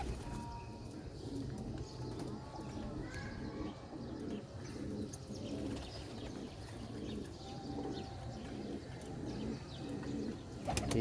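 Teddy pigeons coo steadily in a loft, a flock's repeated rhythmic calls layered close and continuous, with occasional wing flutters and a faint voice in the background.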